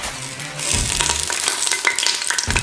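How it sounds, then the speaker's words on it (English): Hot pan sizzling as mirepoix of carrots, celery and onion is stirred in with a splash of red wine to deglaze for lamb shanks: a dense, close crackling hiss with scraping stir sounds throughout, no speech. "I'm gonna deglaze the bottom of the pan with the Mirepoix and a little bit of red wine"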